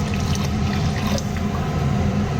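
Water poured into a bowl of whisked yogurt and gram flour for kadhi, a steady full splashing rush that runs continuously at close range without any talk.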